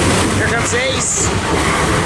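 Freight train led by locomotives 9168 and 5321 passing close by at Tehachapi, a loud continuous rumble with clattering wheels and a brief squeal, while someone speaks over it.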